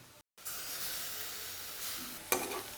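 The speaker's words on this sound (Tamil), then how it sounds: "இஞ்சி, பூண்டு, சின்ன வெங்காயம் எண்ணெயில் நல்லா சேர்ந்து வதங்கட்டேன்" Crushed garlic, ginger and small shallots sizzle steadily in hot oil for a cauliflower soup, a dense close frying hiss that cuts out briefly near the start, with a sharper burst of spatter late on.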